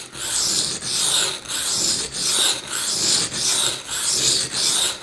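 A knife blade scrapes across a coarse sharpening stone in steady back-and-forth strokes, about seven loud gritty rasps in an even rhythm, each separated by a brief pause.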